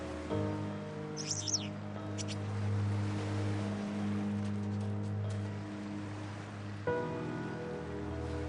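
Wire-tailed swallows give a few brief high chirps on a Lake Malawi beach, faint over a loud, steady low hum of a boat engine that persists throughout.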